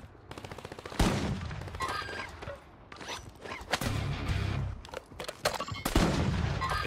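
Gunfire from the video game Warzone, including sniper shots, cracks out in a series of sharp, loud reports with ringing tails, scattered irregularly across several seconds over a busy background of game effects.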